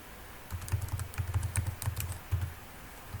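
Typing on a computer keyboard while entering CSS code: a quick irregular run of close, crisp key clicks with short gaps between them.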